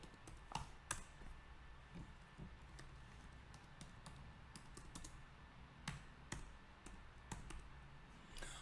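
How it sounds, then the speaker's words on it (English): Soft, quiet keystrokes on a computer keyboard come in irregular bursts of clicks, fairly close, with no talking. "Let me type that in."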